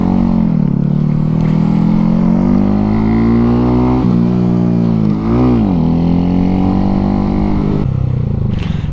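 Modified Honda Grom motorcycle engine under way, a loud close buzzing drone that climbs and dips through a couple of throttle changes with a brief lift-off near the middle, no talk over it.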